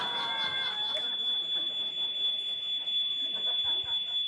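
A steady high-pitched electronic alarm tone sounds continuously throughout, with a few soft voices and faint background noise underneath.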